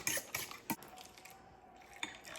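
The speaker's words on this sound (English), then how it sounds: "Whisk it up with a fork." A fork whisks seasoned mixture with paprika, black pepper and salt in a bowl, producing quiet, quick clinks and scraping taps against the bowl in short bursts.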